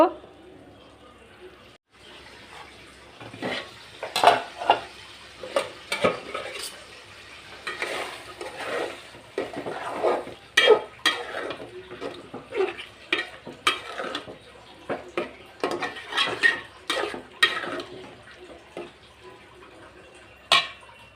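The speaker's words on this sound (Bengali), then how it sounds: "কলিজাটা দিয়ে এখন একটু নাড়াচাড়া করে ঢেকে দিব, আস্তে আস্তে কষিয়ে নিব।" Liver being stirred and fried in a pan for a spiced liver bhuna, with a sizzle under repeated scraping and clinking of a spoon against the pan, close and uneven, while a person talks in places.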